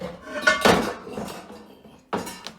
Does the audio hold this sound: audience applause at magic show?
no